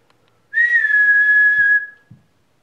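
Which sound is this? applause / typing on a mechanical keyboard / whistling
whistling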